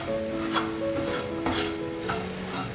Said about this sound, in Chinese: 炒好的椰子丝也放进来，快速的拌炒